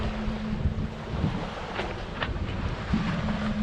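Steady wind rushes past a sailboat rigged for a single-handed spinnaker launch, a constant loud gusty roar with water wash beneath it and a faint tonal hum, no voices.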